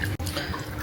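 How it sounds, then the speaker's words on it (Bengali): Running water splashes steadily in a short burst of household washing, a close, continuous rush with no voices. "পানি দিয়ে ধুয়ে দেবে এবার।"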